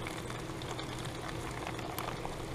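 Potatoes boil in a pot on an RV stove, giving a soft, steady bubbling and gurgling that runs throughout, close and fairly quiet.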